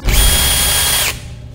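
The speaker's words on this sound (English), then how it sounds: "I got my drill and I got a toothbrush." A power drill with a toothbrush attached spins at a high, steady whine for about a second, loud and close, then stops abruptly and leaves quiet room tone.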